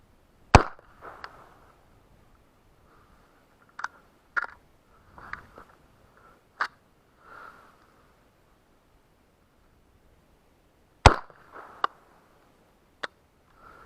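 Unsuppressed .300 Blackout rifle shots heard at the ejection port, sharp separate cracks spaced irregularly, some loud and close and others softer, with quiet gaps between and no talking.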